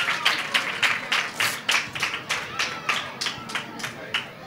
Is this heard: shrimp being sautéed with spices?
no